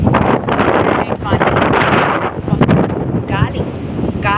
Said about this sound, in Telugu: గాలి మనుషుల్ని ఏదో చేస్తుంది